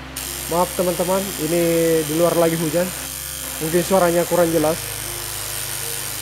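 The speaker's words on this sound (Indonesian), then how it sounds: "Mesin cukur seperti ini yang menggunakan listrik PLN, biasanya penyakitnya seperti ini" Mains-powered electric hair clipper with a rough, loud fault, buzzing steadily in the background while someone talks over it outdoors in the rain.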